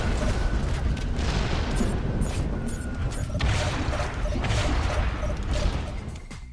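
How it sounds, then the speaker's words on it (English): Rocket launcher blasts in a Halo video game roll together into a dense, continuous barrage of booming explosions and crashing debris, loud and sustained. "Some rocket launchers even come with a homing feature, which is particularly useful against airborne enemies."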